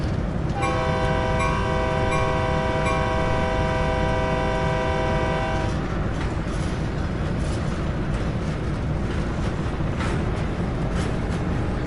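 A train passes in Train Sim World, its horn sounding in a steady multi-tone chord for several seconds over a loud continuous rumble of wheels and engine that carries on after the horn stops.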